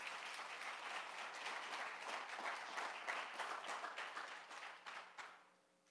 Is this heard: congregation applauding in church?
yes